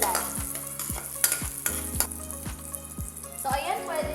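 Vegetables sautéing in a pan until browned, with a steady sizzle and regular scraping stirs roughly every half second, close and moderately loud, under faint background sounds.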